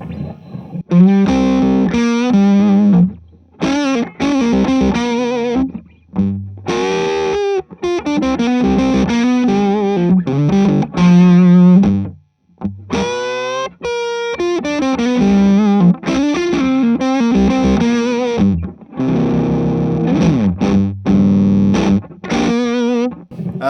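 Electric guitar driven through an Austin Pride overdrive pedal set very dirty, played as loud, continuous distorted chords and riffs with brief gaps between phrases.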